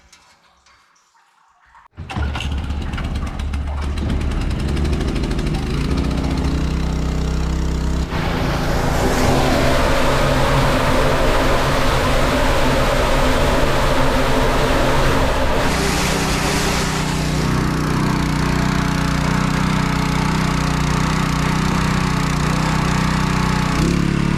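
A small engine-driven pump at a maple sugaring farm starts abruptly and then runs loud and steady, droning continuously as it pumps collected maple sap into a tank.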